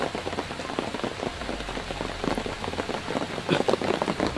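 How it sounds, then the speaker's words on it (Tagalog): Heavy rain pours down steadily, a dense hiss of drops drumming on a surface with occasional louder spatters, close and continuous. "Sobrang lakas talaga ng ulan."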